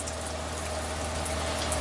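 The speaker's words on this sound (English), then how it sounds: "turn on the hot. Sounds like air." Hot water tap in an RV sputters and hisses with air, a faint continuous rushing, bubbling flow heard alone.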